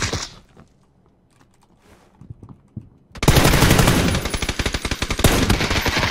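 Rapid automatic gunfire erupts in a video game shootout, loud and close, with dense bursts of shots that keep going after a quieter opening stretch of faint clicks and movement.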